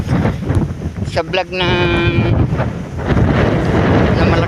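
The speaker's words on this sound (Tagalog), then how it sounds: "Ang lakas po ng hangin." Strong mountain wind on the trail up Mt. Batulao buffets the microphone with loud, continuous roaring and gusting; a person speaks briefly over it.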